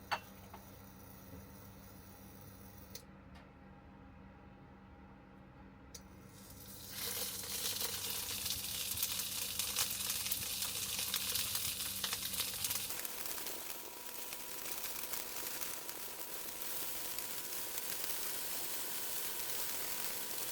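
Yellowfin seabream pan-frying in a little oil in a flat pan, a steady broadband sizzle that swells louder partway through and continues close and unbroken, with no talking.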